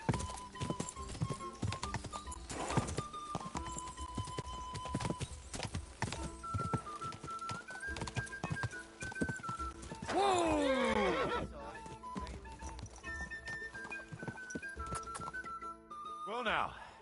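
Horse hooves clip-clop and a horse whinnies in Kingdom Come: Deliverance II, steady hoofbeats running throughout with a loud, rising-and-falling neigh near the middle, over game music and voices.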